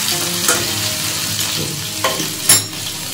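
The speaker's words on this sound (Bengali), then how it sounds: "একটু লালচে লালচে হয়ে গেলে পটল ভাজা হয়ে যায়" Steady oil sizzling from pointed gourd pieces frying in a pan, with a few brief clinks and scrapes of a utensil stirring the pieces.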